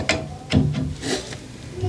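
An adjustable wrench turning a taped steel pipe fitting onto its threads: a few short, scraping, grinding bursts of metal rubbing, close and moderately loud.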